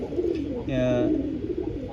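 A pigeon gives a soft, low cooing call partway through, close by, with a voice speaking alongside it.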